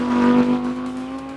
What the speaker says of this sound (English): That V10 just sounds amazing.